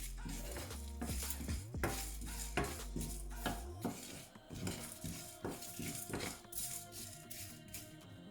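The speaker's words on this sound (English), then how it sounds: "It has been around 2 minutes that I am roasting." Whole spices are dry-roasted in a pan and stirred with a metal utensil, giving repeated scraping clinks and rattles against the pan at an uneven rhythm, fairly close and unaccompanied by talk.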